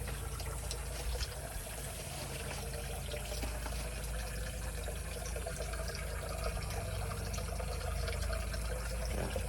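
Water from an aquaponics fish tank flows through a planted bed, a constant soft rushing trickle that runs evenly and faintly from start to finish with no other sounds.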